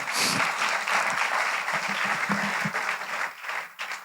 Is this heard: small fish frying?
no